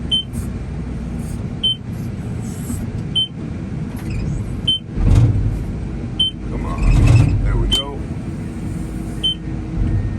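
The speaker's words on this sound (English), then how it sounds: "That beeping lets you know, hey buddy, your attachment's not attached." Short high electronic beeps from a loader's attachment warning, signalling the attachment is not pinned, repeat at a steady interval over the rumble of the running engine, while someone speaks briefly nearby.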